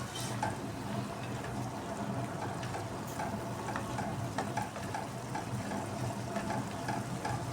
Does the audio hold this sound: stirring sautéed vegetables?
yes